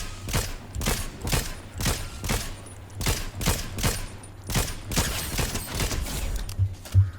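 Rapid, evenly spaced gunfire from a weapon in the video game Fortnite, a steady string of loud sharp shots running through the whole stretch with no talking.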